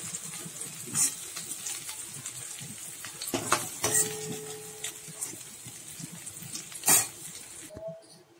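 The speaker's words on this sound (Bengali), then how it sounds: "চিংড়ি মাছটা ভেজে নিয়েছি লাল করে।" Prawns fry in hot oil with a faint, continuous sizzle, broken by a few clinks of utensils and pans, before a quieter ending.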